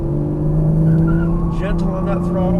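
Porsche Cayman S engine holding a steady, strong drone as it accelerates on a race track, close and continuous, with an instructor's voice coaching over it.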